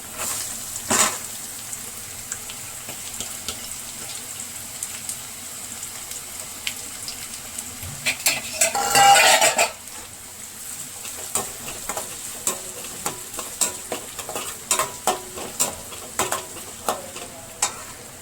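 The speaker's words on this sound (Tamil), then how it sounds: "இப்போ நல்லா வெங்காயம் வந்து வதங்கட்டும்" Onions sizzle and crackle steadily in a hot pan for pepper kuzhambu, broken by scraping stirs and a short burst of running water midway, close up with no talking.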